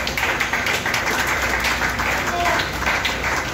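An audience applauding at a political meeting of the CPC in Congo, a dense, loud wash of clapping mixed with crowd noise and voices, sustained throughout.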